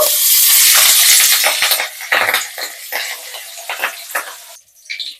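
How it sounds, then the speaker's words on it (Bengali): Fish fry in hot oil for a Bengali fish curry, a loud close crackling sizzle at first that breaks into irregular sputtering pops and bursts as it settles. No one speaks. "এই তেলে বাকি দুটোও ভেজে নেব।"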